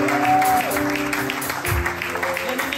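A church congregation applauding during a service, a dense patter of clapping with a sustained musical tone and voices mixed in, moderately loud and continuous.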